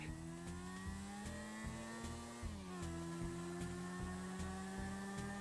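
A motorbike engine in the video game GTA V drones steadily and loudly, its pitch dipping briefly midway before holding steady again, with no voices.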